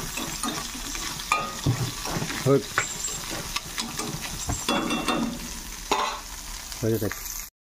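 Sea crab frying in a pan, a busy close sizzle with frequent clattering stirs and scrapes, uneven and fairly loud throughout.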